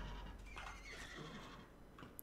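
Wild horses in the video game Dawn of Man let out a faint whinny, a short neigh rising and falling over soft ambient game sound.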